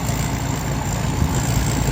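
A combine harvester's large engine idles during a rice harvest with a constant low rumble and steady vibration, unchanging and close.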